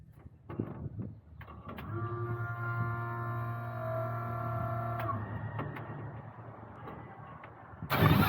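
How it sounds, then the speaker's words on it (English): A fuel pump primes the Lycoming AEIO 540 engine of a Pitts Special aerobatic biplane, giving a steady electric whine with a tonal hum that runs for about three seconds and then stops, with clicks around it and no talk. "The next noise you'll hear will be the fuel pump priming the engine for startup."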